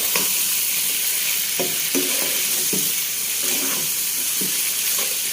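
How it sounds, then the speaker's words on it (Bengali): Beef liver fries in oil with turmeric and spices in a pan, giving a steady close sizzle with scraping stirs now and then. "ভেজে দিচ্ছি"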